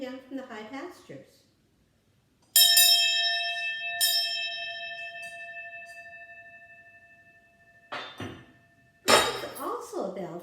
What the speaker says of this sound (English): This bell is from Switzerland. It's usually hung on a cow